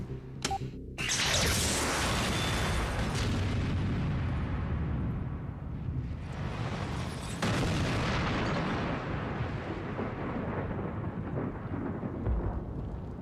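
An aircraft fuel tank test rig explodes when a spark ignites it, with a sudden loud blast that rolls into a long, heavy rumble and then a second surge of roaring noise.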